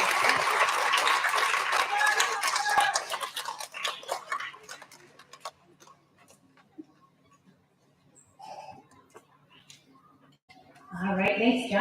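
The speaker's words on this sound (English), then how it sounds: "Big round of applause for our second graders." An audience at a school recognition ceremony applauds second graders, with loud clapping at the start that fades into sparse scattered claps, then quiet speech.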